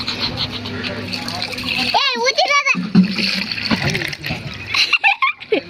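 Water is poured out over hands for washing outdoors, splashing and trickling loudly and close while children and adults talk over it.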